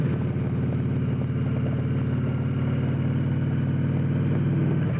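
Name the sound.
Victory Cross Country touring motorcycle engine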